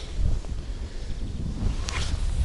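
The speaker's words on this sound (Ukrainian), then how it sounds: "вітер сьогодні такий" Low, blustery, cold wind buffets the microphone throughout while feeder fishing, a constant rumbling gusting with a faint rustle near the end.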